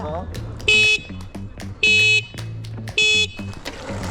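A car horn sounds three loud, evenly spaced blasts, each about a third of a second long, close by, with voices talking between them.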